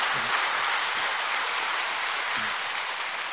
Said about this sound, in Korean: 오늘 또 은혜 주실 하나님께 영광의 박수합시다.